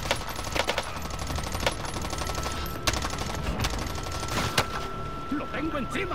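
Rapid automatic gunfire and scattered single shots crackle in a Warzone match, dense bursts layered over ambient battle noise while someone talks throughout.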